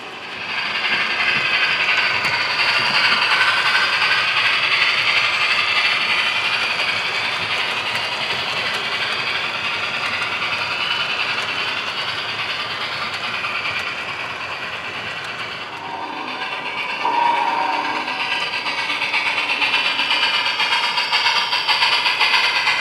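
A Union Pacific FEF steam locomotive runs on rails down a short grade near Evanston, Wyoming, producing a steady, continuous mechanical roar with faint rhythmic clatter and no speech.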